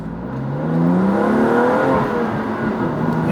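A BMW M2 CS engine drones loudly in a sustained rev that holds and slowly rises during an upshift, heard from inside the car without speech.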